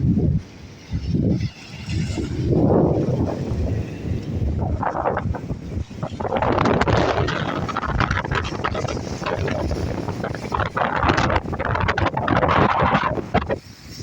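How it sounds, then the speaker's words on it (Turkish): Strong wind at sea over rough, choppy water buffets the microphone in heavy, roaring gusts, with rushing noise rising and falling continuously and no clear voices. "Bayağı da esiyor. Rüzgar da çok."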